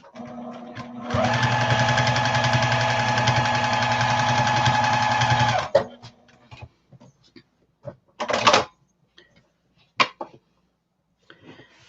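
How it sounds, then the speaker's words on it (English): A sewing machine stitches a scrap of fabric in one steady, loud run of about four and a half seconds, then stops, followed by scattered handling clicks and a couple of short bursts. "let me get a scrap piece here and just sew on a scrap"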